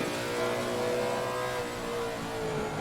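A Lexus GT race car engine in Assetto Corsa Competizione, a sustained loud mid-pitched drone that rises and falls slightly as the car drives, heard alone with no voices.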